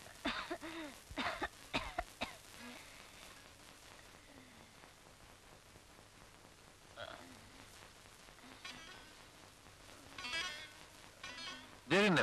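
Several sharp coughs in quick bursts near the start, then quieter stretches with scattered coughs and throat sounds, a final loud cough at the end.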